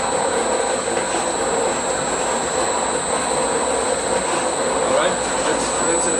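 A mirror grinding machine runs at a higher gear speed, producing a loud steady mechanical whir and hum with a constant high tone, continuous and close.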